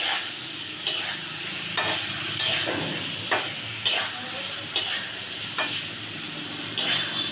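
Already fried eggs stirred through a sizzling masala that has released its oil, with a spoon scraping the pan in a regular rhythm, roughly one stroke per second, over a constant close sizzle.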